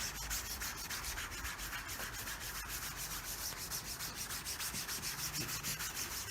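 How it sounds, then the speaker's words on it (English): A brush scrubbing a dirty white gaming mousepad with cleaner, giving a close, rapid, rhythmic rubbing and scratching that carries on steadily and is not covered by speech. "So let's get scrubbing."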